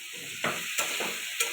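Potatoes and pointed gourd frying together in hot oil, giving a steady sizzle with a few louder stirring scrapes breaking through at intervals.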